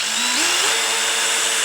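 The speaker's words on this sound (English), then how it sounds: "Let's try a drill." A power drill bores through a 3D-printed part: a steady, loud motor whine that steps up in pitch early on, then holds a constant drone for under two seconds.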